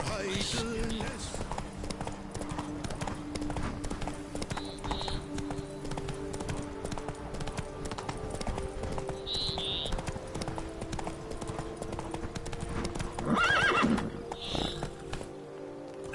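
A horse's hooves clip-clop steadily in The Witcher 3 on PS5, with occasional whinnies and soft rustling under the game's ambient sound, while someone speaks over it.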